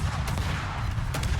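Naval guns fire in World of Warships as a steady, low rumble of distant, muffled booms. Two sharper reports break through briefly, one near the start and one near the end, and no voices are heard.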